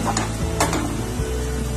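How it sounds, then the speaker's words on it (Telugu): Tomatoes are stirred in a pan over a high flame, with a spatula scraping and knocking against the metal over a soft sizzle, close and brief. "టమాటా మొత్తాన్ని ఒకసారి బాగా తిప్పుకోండి."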